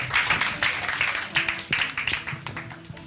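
Audience applauding after a spontaneous science storytelling performance, a dense patter of many hands sustained throughout, moderately distant with faint talk mixed in.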